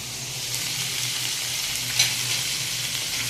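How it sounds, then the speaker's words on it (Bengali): Ginger paste fries in hot oil, producing a steady, close, bright sizzling hiss with a brief stirring clatter near the middle. "এর সাথে আদাটা ভাজা ভাজা হয়ে যাবে"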